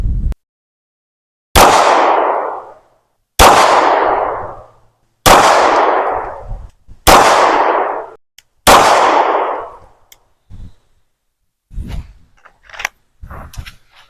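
Five sharp, loud gunshots from a striker-fired handgun aimed at a target, spaced about two seconds apart, each ringing out with a short decaying echo, followed by faint clatter and handling noise.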